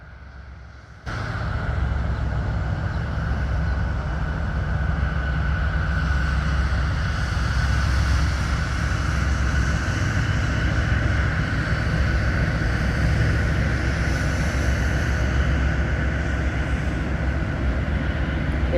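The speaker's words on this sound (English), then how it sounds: "let's get to what my father calls a coal train" A Norfolk Southern coal train, NS 688, on the Cleveland and Fort Wayne lines rumbles past close by. A loud, steady roar begins abruptly and continues without a break for the whole passage.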